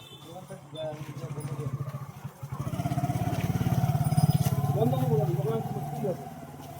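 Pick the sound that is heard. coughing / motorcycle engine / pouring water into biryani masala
motorcycle engine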